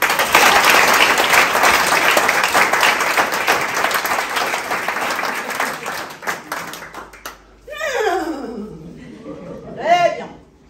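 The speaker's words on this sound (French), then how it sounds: "Voilà Bijou, sous vos applaudissements, messieurs" A cabaret audience greets a chestnut horse named Bijou with loud, dense applause that swells for several seconds, then fades out, followed by brief voice sounds in the quiet.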